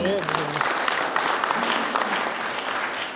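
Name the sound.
applause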